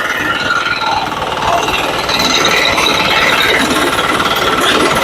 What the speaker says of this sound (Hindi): अब मैं इसका कटर चालू करता हूँ।